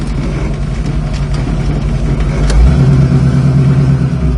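A 1973 Ford Mustang convertible on the road, its engine giving a loud, steady drone with a low rumble and a slight lift in revs partway through, heard from close by with no talking.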